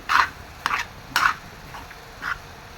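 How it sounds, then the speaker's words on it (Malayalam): Macaroni being stirred into tomato sauce with chicken and vegetables, four short scraping strokes of a spoon against the pan with quiet pauses between, close and alone. "മാക്രോണി ചേർത്തിട്ട് നന്നായിട്ട് നമുക്ക് മിക്സ് ചെയ്തെടുത്ത്"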